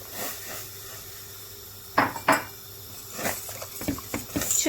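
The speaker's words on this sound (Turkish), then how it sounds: "Çırpıyoruz kapak olmaması için." Metal scraping and clinking against a pot, with a couple of sharp knocks and then a stretch of brisk, uneven whisking strokes as milk, starch and flour are whisked together.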